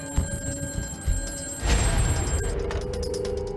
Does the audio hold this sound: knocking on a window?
no